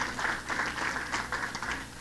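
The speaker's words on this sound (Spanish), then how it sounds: "Tribútenle ese aplauso de adoración al Señor" A church congregation applauds in worship, the clapping soft and distant, a steady patter that carries on evenly without pause and without talk over it.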